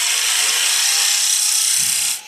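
A wood turning tool cuts into a spinning workpiece on a lathe, shaping a trunk, base and tenon, giving a steady, loud hissing shear that runs for about two seconds and then stops abruptly, with no talking.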